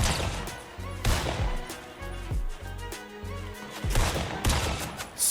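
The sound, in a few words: gunfire in Fortnite video game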